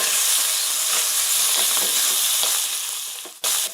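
Crawfish jambalaya bubbling and sizzling in a pot, a loud, dense frying hiss with scattered pops, fading slightly before a short break near the end.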